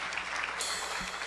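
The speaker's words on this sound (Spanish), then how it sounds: "qué les parece si le damos un fuerte aplauso a estos nuestros invitados" A church congregation applauds its morning guests, a steady wash of clapping from many hands that carries on evenly throughout at moderate distance.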